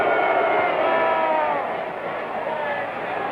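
A noisy football stadium crowd at the 1962 AFL Championship Game between Dallas and Houston, a steady roar of massed voices that eases slightly midway and swells again.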